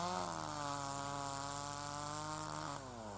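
A chainsaw cuts firewood at a village home, its engine holding a loud, steady high whine under load that drops in pitch near the end as the cut finishes.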